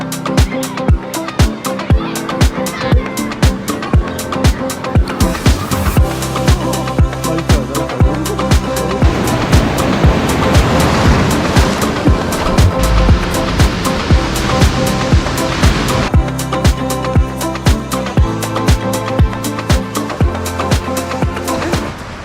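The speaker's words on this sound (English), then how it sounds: "I'm gonna have to go warm up in the sea." Sea waves break on the shore in a loud, continuous roar with surges of surf and the wash swelling and fading, with no voices.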